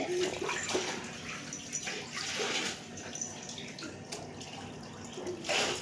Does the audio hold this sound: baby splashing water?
yes